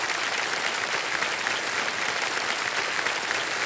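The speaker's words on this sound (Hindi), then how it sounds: "एक बार इनके लिए भी ताली बज जाए।" Studio audience on the KBC quiz show breaks into dense, sustained applause, a steady wash of many hands clapping without pause.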